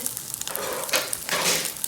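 Steady sizzling and crackling of meatballs frying in a lidded pan, with soft bursts of louder frying swelling up twice.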